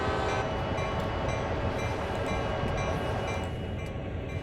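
Loud, continuous rumble and roar of a train heard from the cab with the window open in Train Sim World, dense low-end drive noise with a faint tonal layer, steady throughout without talk.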